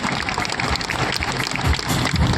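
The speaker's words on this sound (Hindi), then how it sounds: "एक बार जोरदार तालियां हो जाए" Loud, close clapping from the audience at a Miss & Mrs Strong Beautiful event in Rayadurgam, continuous and dense through the short stretch, with a busy crowd atmosphere.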